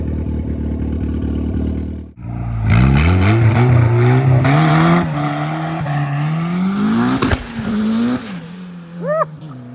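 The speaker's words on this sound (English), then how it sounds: "I hope you guys enjoy this little pull on the Turbo EG" A turbocharged Honda Civic EG hatchback with a new exhaust pulls hard, the engine note climbing loudly through the revs with a brief shift dip and a turbo whoosh near the end, close up with no talk.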